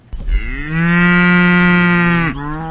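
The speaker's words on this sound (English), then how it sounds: "Kenneth Hall is checking out the cattle on the family farm near Alton, Missouri" A cow on a family farm near Alton, Missouri lets out a single loud, close, sustained moo that dips in pitch at the end.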